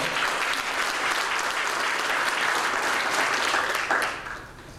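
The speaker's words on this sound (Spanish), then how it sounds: "Demos un fuerte aplauso al Señor." A church congregation gives a strong, sustained round of applause, dense clapping that fills the space steadily for about four seconds before tapering off at the end, with no talk over it.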